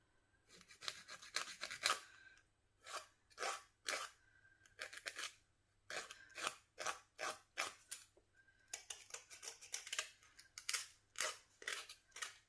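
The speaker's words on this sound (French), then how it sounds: "couper au maximum votre bord avec un coupe-ongle et puis ensuite vous finissez à la lime" Press-on nails being trimmed with a nail clipper and then filed: a run of sharp, close clicks and short rasping strokes come in quick irregular bursts, with brief pauses and no talking.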